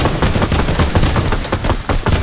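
Rapid bursts of gunfire ring out in the video game Fortnite. The shots come loud and close in quick, stuttering volleys that fill the whole moment.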